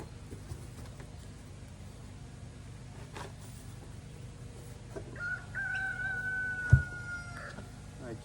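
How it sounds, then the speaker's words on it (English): A rooster crows once in the background, a drawn-out call of a few seconds over quiet outdoor ambience with a soft thump near the end. "sorry about that, rooster"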